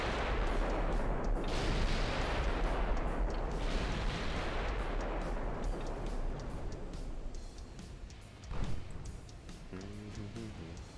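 Naval gunfire from warship secondary batteries in the Ultimate Admiral Dreadnoughts game, a dense, continuous rumble of overlapping booms across the clip with a sharper blast near the end, no talking.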